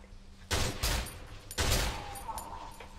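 Enemy gunfire in the horror video game Cry of Fear, with two loud bursts of rapid shots close by, then a quieter lingering tail and faint game ambience.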